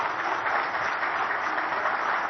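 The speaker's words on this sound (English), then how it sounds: "Let's have a proper round of applause for Hemanta Biswa Sharma." An audience at a national conclave applauds Himanta Biswa Sarma, a steady, even wash of clapping that fills the whole span without pause or voices.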